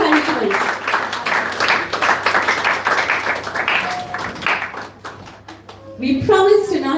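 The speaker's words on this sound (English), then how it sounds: "Let's give her a round of applause and let's give her some encouragement." An audience at a kirtan gathering claps for several seconds, then the applause thins and fades, followed by people talking close by.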